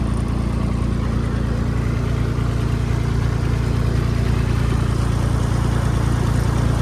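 A Swaraj 722 XT tractor engine runs at 1200 RPM with a steady, unbroken diesel drone, close and constant for the whole stretch, with no voices.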